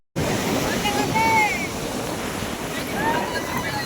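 Sea waves breaking on the beach at Konark in Odisha make a steady, loud wash of surf with wind buffeting the microphone, and faint tonal sounds come through in the background.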